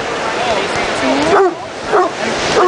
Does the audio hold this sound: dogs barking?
yes